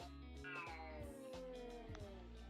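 Mating cats yowl in long, drawn-out, wavering caterwauls that slide downward in pitch, close and loud with no talking.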